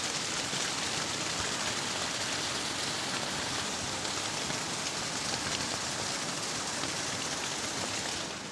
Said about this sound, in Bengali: এত জোরে বৃষ্টি হচ্ছে কী বলবো